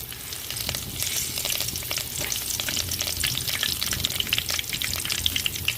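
Curry leaves crackle and sizzle in hot oil while tempering a home-style sambar of moong and toor dal, a dense, steady frying hiss with sharp spattering pops throughout, close and fairly loud, with no talking.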